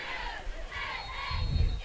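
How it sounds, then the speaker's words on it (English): A football stadium crowd at a high school night game roars and shouts in a steady, loud wash of voices. "Crowd still filtering in."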